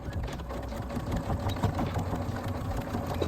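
Sewing machine stitching a seam to take in the waist of jeans, a steady close whirring run of rapid needle strokes from start to finish.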